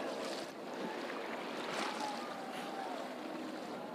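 A speed boat rides over sea waves at Digha, heard as a faint, continuous wash of water and wind with a broad swell of noise midway; no one talks.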